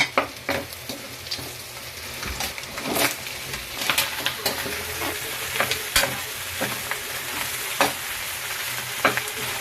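Ginger, onion, bay leaf and black pepper sautéing in oil for Filipino kare-kare, a steady close sizzle broken by repeated sharp spatula scrapes and knocks against the pan, no talking.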